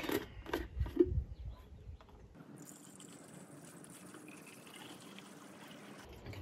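Multi-purpose antifreeze trickles into the radiator of a Ford 4.0-litre-powered Mercedes W203, a faint, steady watery fill and gurgle after a few louder knocks and handling sounds at the start.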